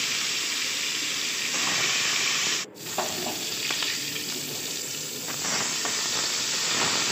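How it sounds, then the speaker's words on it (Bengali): Shankar fish fries in hot oil, sizzling loudly and steadily up close with a constant hiss, briefly broken by a clatter as the pieces are stirred or turned. "এদিকে তেল গরম হয়ে গেছে, মাছগুলো লাল লাল করে আমি ভেজে নেব।"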